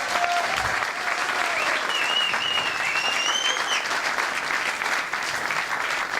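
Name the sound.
audience applause at closing ceremony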